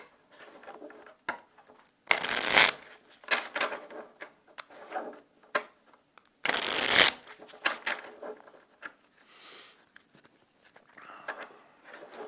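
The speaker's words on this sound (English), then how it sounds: "Let's shuffle up here." A deck of cards for the board game Bargain Quest is shuffled up close, with two loud riffle bursts among softer handling rustles and taps and no speech.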